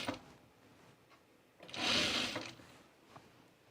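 A sewing machine stitches the side seams of pajamas in one quiet burst of whirring lasting about a second, with faint handling noises before and after.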